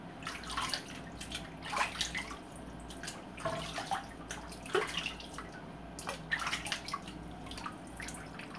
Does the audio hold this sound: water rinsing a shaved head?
yes